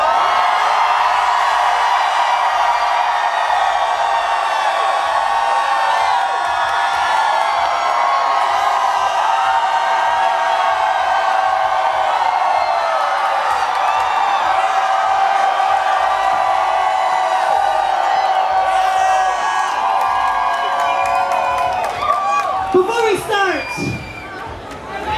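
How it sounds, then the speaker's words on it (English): A large outdoor crowd at a Pride event on High Street in Columbus screams and cheers loudly and continuously for over twenty seconds, with whoops rising out of the roar before it breaks up near the end. "I need you to scream as loud as you possibly fucking can to let all of High Street know how proud Columbus is"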